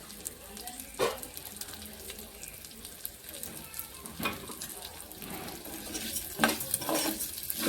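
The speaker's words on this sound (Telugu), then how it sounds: "చూసారా ఎంత బాగా వేగుతుందో?" Moong dal fries in ghee in a pan. Quiet sizzling and scraping of stirring run through the clip, with a few sharper stir knocks.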